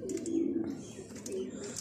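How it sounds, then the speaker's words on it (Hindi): Soft, low pigeon cooing murmurs in short repeated phrases, fairly quiet, with faint background noise. "सब के सब एक साथ बैठे हुए कबूतर"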